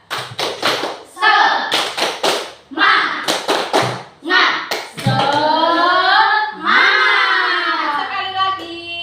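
Schoolchildren in a classroom perform a rhythmic spirit clap, sharp bursts of unison claps in patterned groups alternating with loud shouted chanting in chorus.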